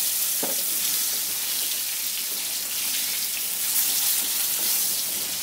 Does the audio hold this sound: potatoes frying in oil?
yes